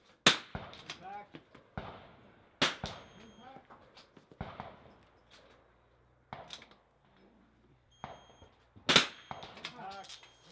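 Rimfire rifle shots striking steel targets at an outdoor NRL22 match: several sharp, loud cracks spaced a couple of seconds apart, each followed by a brief ringing tail, with people talking between shots.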